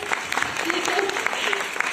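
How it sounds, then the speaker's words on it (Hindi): Enthusiastic audience clapping at a business talk, a thick continuous burst of many hands with sharper individual claps poking through and voices calling out faintly beneath it. "एक बार जोरदार तालियां त्रिपत के लिए हो जाए।"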